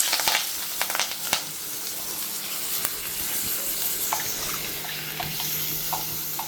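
Onions frying in a pan for prawn gravy, a continuous close sizzle with a few sharp spatula knocks early on, then steady hissing with light stirring scrapes.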